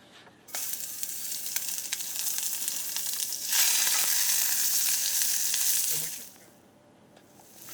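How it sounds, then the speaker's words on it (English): Sliced onion dropped into hot oil in a camp oven sets off a sudden loud sizzle that hisses on steadily, rises briefly, then settles back to a quieter crackle near the end. "now we're going to add the sliced onion"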